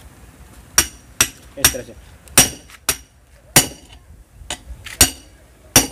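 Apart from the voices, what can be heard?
hammer striking a tyre-removal tool on a tempo tyre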